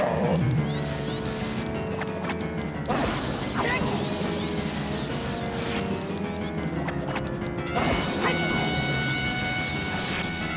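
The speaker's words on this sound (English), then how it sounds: "So hit it back with your sword, and then he'll fall to the ground" Sword strikes batting Phantom Ganon's energy ball back in The Legend of Zelda: Ocarina of Time, heard as sharp crashing whacks and whooshes with magical sweeps over loud, continuous game music.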